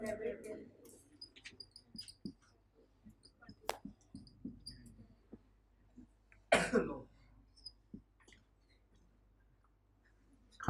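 A single sharp cough rings out in a quiet lecture room, among faint clicks, shuffles and brief murmurs of speech.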